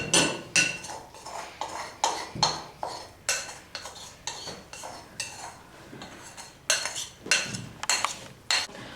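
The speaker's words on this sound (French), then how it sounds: "Et on mélange." Utensil scraping and clinking against a bowl while chocolate walnut cake batter is mixed with a spatula, an irregular run of close, moderately soft strokes with no voice.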